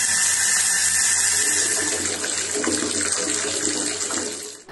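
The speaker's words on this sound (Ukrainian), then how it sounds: "у людей з-під крану тече не вода, а кока-кола" Brown, cola-coloured water gushes from a kitchen tap in Dnipro, a close, steady splashing rush that lasts several seconds before trailing off.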